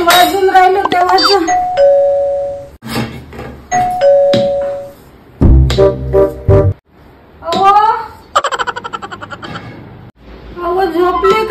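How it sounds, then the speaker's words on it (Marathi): A household doorbell chimes twice with a sustained electronic tone in a home comedy skit, followed later by a rapid ringing burst, with people talking between the rings. "कोण होय बेल वाजून राहिलं"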